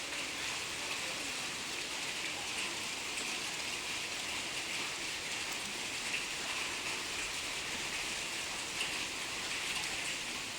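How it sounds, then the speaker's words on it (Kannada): Heavy rainstorm with hail falling outside, a steady dense hiss of pelting drops on surfaces throughout, continuous and even with no distinct pauses or voices. "ನೋಡ್ರಿ ಆನಿಕಲ್ ಯಾವ ಥರ ಬೀಳಾತಾವ ಅನ್ನೋದು."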